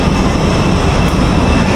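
A Superjet passenger jet at Aceh airport produces a loud, constant engine roar, a broad steady rumble with no breaks, heard close and alone.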